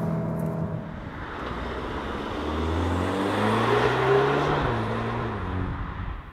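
A 2021 Audi S3 Sportback accelerates from 80 to 100 km/h: the engine note climbs steadily, drops at a gear shift and then rises again, heard from inside the car with steady road noise underneath.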